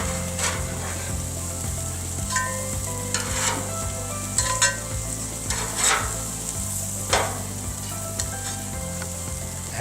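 A hamburger patty sears on an outdoor grill, giving off a continuous crackling sizzle with sharper pops at intervals over a low, steady tonal backdrop.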